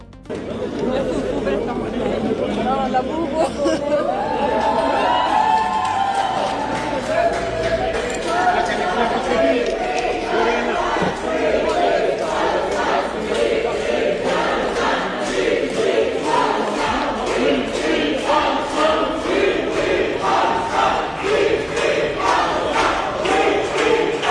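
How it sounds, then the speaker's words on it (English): A crowd of pro-Palestine activists in Sweden cheers and shouts in a dense, continuous roar of many voices. The chanting and chatter stay loud and unbroken from start to finish. "returned to Sweden to a crowd of pro-Palestine activists cheering and shouting"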